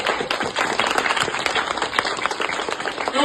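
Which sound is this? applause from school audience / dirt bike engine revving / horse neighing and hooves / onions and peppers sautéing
applause from school audience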